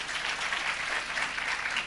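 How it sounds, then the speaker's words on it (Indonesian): A church congregation applauds together in a dense, steady wash of clapping that fills the hall without any voices over it. "Kita boleh berikan tepuk tangan buat Tuhan."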